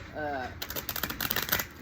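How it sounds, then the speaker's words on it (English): Quick riffling and flicking of a Kipper oracle card deck being shuffled up close, a brief burst of crisp clicks following a short voice at the start. "I'm going to go ahead and shuffle from the Kipper deck."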